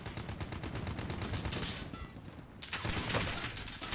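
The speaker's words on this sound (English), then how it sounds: "Getting shot from every direction." Rapid automatic gunfire in a video game shooter, a dense rattling burst of shots repeating quickly and evenly, easing briefly before another heavy volley, with no voices.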